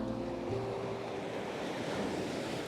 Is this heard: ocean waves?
yes